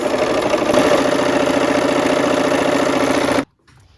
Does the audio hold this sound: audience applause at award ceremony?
no